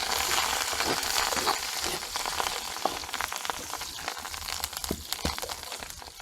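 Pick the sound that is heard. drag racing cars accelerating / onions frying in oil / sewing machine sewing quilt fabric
onions frying in oil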